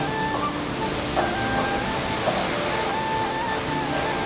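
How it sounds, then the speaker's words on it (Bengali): Stormy weather on a rainy day outside a home, a steady broadband roar of strong wind and rain filling the whole stretch with no clear breaks. "তো প্রচণ্ড ঝড় দিচ্ছে তার সাথে"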